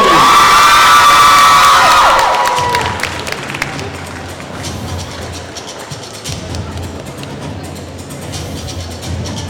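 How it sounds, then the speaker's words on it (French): A crowd at a cosplay contest during a manga convention breaks into loud applause, cheers and whoops for a contestant, then the ovation thins into scattered clapping and murmuring as the hall quiets. "interprétation Dio Barando par Naria, qu'on applaudit s'il vous plaît"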